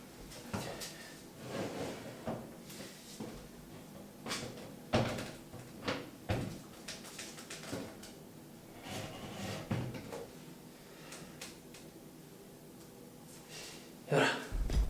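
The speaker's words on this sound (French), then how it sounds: "Je vais fermer la porte parce que ma petite fille est en train de dormir." A door being closed in a home, with several soft knocks and clicks from handling the door and latch, interspersed with quiet rustling and breathing, ending in a firmer thud.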